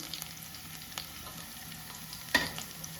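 Garlic frying gently on a low flame for a restaurant-style peas and palak curry, a faint steady sizzle with a few soft stirring clicks and one sharper scrape near the end.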